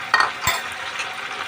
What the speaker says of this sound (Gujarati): અને હવે આપણે એને હલાવીશું.